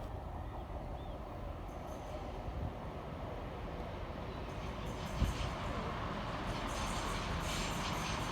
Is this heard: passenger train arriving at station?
yes